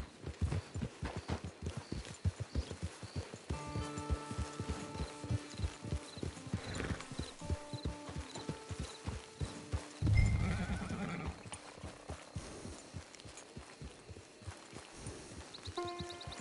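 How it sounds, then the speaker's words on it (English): Horse hooves clip-clop in a steady walking rhythm in the Red Dead Online video game, with a loud whinny rising midway and a few more neighs, close and clear over soft ambient music. "Get your horse."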